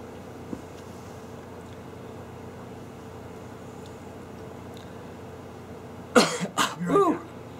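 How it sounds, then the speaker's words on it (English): After a quiet, hissy stretch, a person breaks into a short burst of several harsh, close coughs. "One sneezing and coughing fit later."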